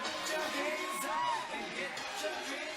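Arena crowd at an independent wrestling show cheering and whooping as a tag team wins the title belts, a dense steady roar with scattered yells, loud and continuous throughout.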